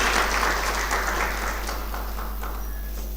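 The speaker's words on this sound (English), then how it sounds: "A round of applause for him as he ascends the stage." Sustained applause fills a lecture hall as a keynote professor takes the stage at a university humanities lecture, an even wash of many clapping hands with a low steady hum underneath.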